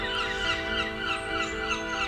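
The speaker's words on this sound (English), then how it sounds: "Noisy seagulls." Seagulls calling repeatedly in harsh, overlapping cries over a college garden while a large hedge is trimmed, the birds fairly distant against steady background hum.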